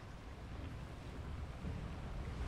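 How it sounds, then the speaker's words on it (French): Waterfall beside a flume ride in the theme-park game Planet Coaster, a steady low rushing wash of falling water that holds at an even level throughout, with no voices over it. "Avec la cascade à gauche."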